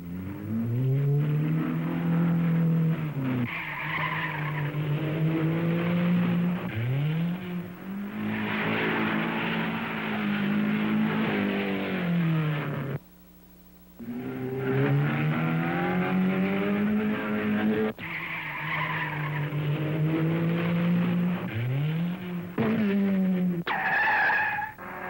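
Race cars at the Chimney Rock motorized mountain hill climb in North Carolina, around 1960, loud engines rising and falling in pitch as they accelerate and shift, with one brief gap between passes and no talking.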